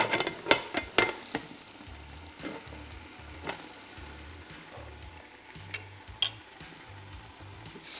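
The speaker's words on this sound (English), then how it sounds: "Now you'll hear the sizzle, you'll start hearing them pop." Clams sizzle in a covered pan with a steady frying hiss, while sharp pops and clicks burst out irregularly, several of them loud and close, over a low background rumble.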